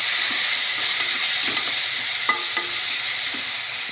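Tomatoes frying and being mashed in a pan with turmeric for tomato rice give a steady, close sizzling hiss with soft scraping stir sounds scattered through it, with no talking.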